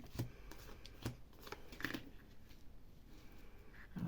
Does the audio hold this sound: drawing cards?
yes